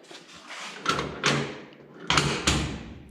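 A 1955 Chevy door, a four-door converted to two-door with its striker adjusted and no rubber stop pads fitted, swings shut in a few solid thuds and latching clunks, close by and fairly loud, with quiet rustling between.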